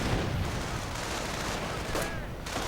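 Steady crackle of rifle gunfire from riflemen in a video game battle against Grenadiers, a dense continuous rattle of shots and distant booms filling the whole stretch without clear pauses.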